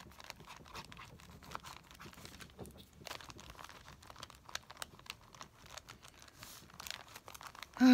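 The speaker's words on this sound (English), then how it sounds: "I'm taking out the tissue paper" Tissue paper being pulled out and crinkled, giving soft, irregular crackling and rustling that carries on steadily at low level with no voices, ending in a brief louder handling noise.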